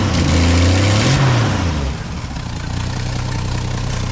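A 1965 Ford Falcon engine runs loud and close, holding a rough steady idle after a brief rise in revs at the start.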